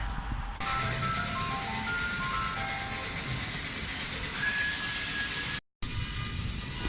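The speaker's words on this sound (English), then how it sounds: "I've never seen an ice cream truck stop by and do this shit." An ice cream truck's jingle plays loudly and continuously as the truck stops by an auto repair shop, a bright repeating melody over steady engine and background hum, with a brief dropout near the end.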